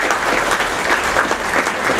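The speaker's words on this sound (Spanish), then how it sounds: "Un aplauso para él, por favor." Audience at a panel discussion on social responsibility applauds a speaker, a steady, dense burst of clapping throughout with no talking over it.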